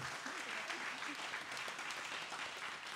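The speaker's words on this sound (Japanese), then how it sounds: "では今一度この選手の皆さんに拍手よろしくお願いします" An audience applauds players at the 2022-23 new-lineup presentation event for the Nojima Stella Kanagawa Sagamihara team. Steady, even clapping runs throughout, heard faintly and from a distance.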